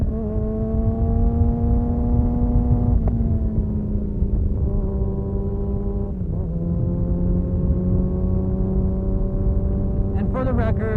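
A Kawasaki ZX6R motorcycle with a flashed ECU pulls hard at low RPM. Its engine drones loud and steady, the pitch sagging slightly through gear changes, and a brief burst of higher revving comes near the end.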